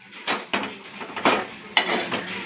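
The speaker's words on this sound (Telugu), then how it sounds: "ఇప్పుడు మొత్తం కలపాలి." Spoon scraping and knocking against a pan as a tomato curry with bitter gourd is mixed together, several distinct clinks and scrapes over a soft sizzle, close and moderately loud.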